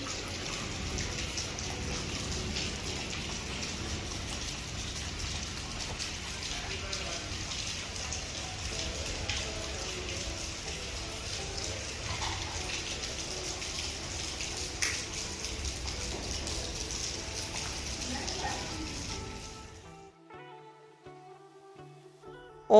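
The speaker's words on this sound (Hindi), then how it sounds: "और यहाँ पर इतने ज़्यादा ओले पड़ने शुरू हो गए।" Heavy hail and rain pound down steadily in a dense, loud, hissing clatter during a storm in Lahore, then cut off abruptly near the end, leaving quiet.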